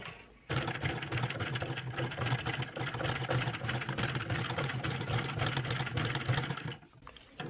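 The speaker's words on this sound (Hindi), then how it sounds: "तो अब हम कपड़े पर मशीन चलाकर चेक करेंगे।" Half shuttle sewing machine stitching cloth, running in a steady, close, rhythmic mechanical whir for about six seconds before stopping.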